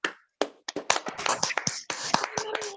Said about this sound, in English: All right, ladies and gentlemen, a round of applause.